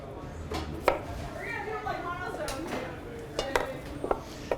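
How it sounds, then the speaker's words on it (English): A knife cutting the end off a peeled vegetable on a kitchen board, giving a few sharp taps and clicks over quiet room noise alongside faint handling sounds. "Peel it, and then cut the end off."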